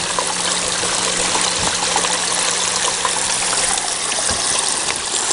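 Water rushes steadily through a gold sluice box, a loud continuous broadband splashing and gurgling with a faint low hum beneath and no voices.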